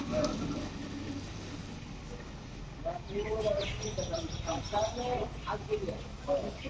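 Common myna birds chirp in quick, bright bursts while being fed, building in the second half over background noise, with people talking nearby.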